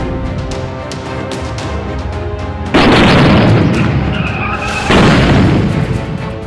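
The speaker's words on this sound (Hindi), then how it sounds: "ये धमाका दरअसल सीआईएसएफ की उस सुरक्षा ड्रिल का हिस्सा है" Two loud, close blasts go off during a CISF security drill, each a sharp roaring burst that rings on and fades, the second following a couple of seconds after the first.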